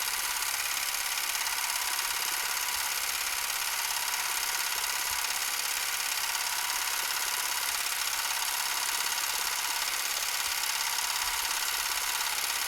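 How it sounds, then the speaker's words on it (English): Super 8 camera running with film transporting through it, giving a steady, continuous mechanical purr with a hissy whir and no pauses or talk throughout. "If you have the cat purring sound, then you know film is actually moving."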